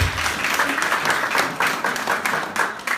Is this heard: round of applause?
yes